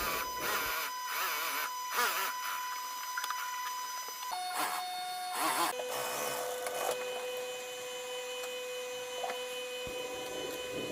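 A sewing machine stitches around the edge of a gift bag being made into a handbag. It gives a steady mechanical whir and hum with short pauses and restarts, loud and close, with no talking.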